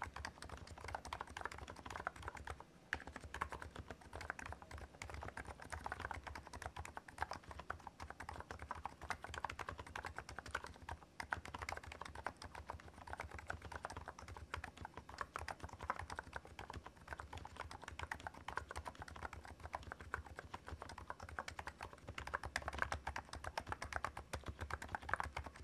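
Steady, rapid keystrokes clatter on a COX CNK84W capacitive gaming keyboard, a dense stream of crisp clicks continuing evenly at close range.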